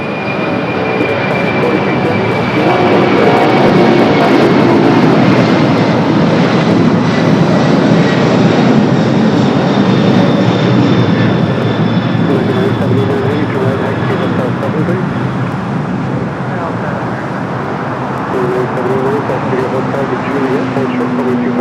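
A Boeing 747 jet roars loudly at LAX as it takes off, rotating early, a broad steady engine rumble with rising whine tones filling the whole stretch, with a voice talking over it.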